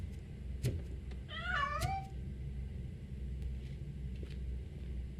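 A cat in the video game RoboCop: Rogue City gives a single clear, wavering meow lasting under a second, up close over a low steady rumble of game ambience, with a couple of short clicks nearby.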